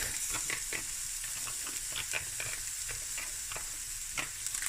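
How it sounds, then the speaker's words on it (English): Garlic sizzles steadily in a hot pan during Cape Malay pumpkin bredie cooking. The frying hiss is close and continuous, with a few light stirring scrapes. "I'm going to add a tablespoon of garlic."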